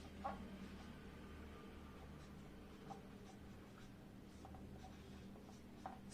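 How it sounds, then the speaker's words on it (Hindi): A pen scratches quietly on paper as notes are taken during a Hindi-language civics lecture on major parliamentary bills, with soft intermittent strokes and small taps and no voices. "आइए एक एक करके लिखते हैं।"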